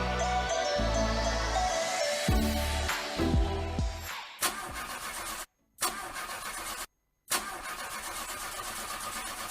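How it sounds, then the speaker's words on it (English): A car engine cranks repeatedly and struggles to catch in a radio advert, with loud starter whirs and sputters up front, then a rough running hum broken by two short cuts to silence. "engine don kaput after you make me spend money repairing and repairing."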